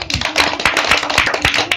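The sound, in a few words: children clapping hands in a classroom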